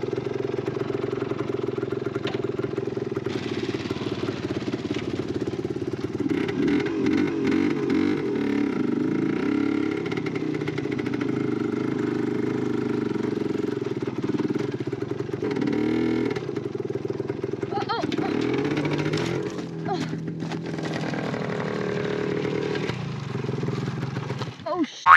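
A vintage motorcycle engine runs in a forest, a steady close low rumble that shifts in pitch with occasional revs, mixed with wind noise and some talking.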